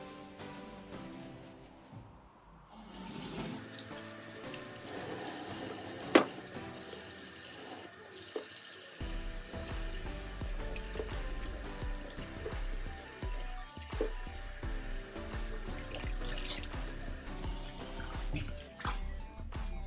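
Tap water runs steadily into a sink while a face is being washed, a continuous splashing wash with occasional sharper splashes over a busy background of music-like tones.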